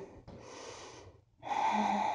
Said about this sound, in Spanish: Una respiración más aquí.